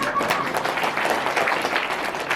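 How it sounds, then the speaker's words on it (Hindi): An audience at a rural Hindi poetry gathering applauds loudly, with steady, dense clapping that fills the whole stretch. "आइए और ताऊ जी के सम्मान में जोरदार ताली बजाइए"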